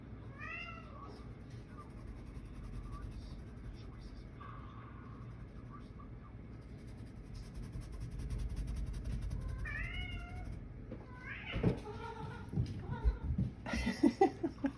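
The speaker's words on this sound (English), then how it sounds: "Do you hear my cat?" A pet cat meows repeatedly and loudly indoors, with several distinct yowls near the start and end, while a person talks intermittently and paint brush sounds are faint in the background.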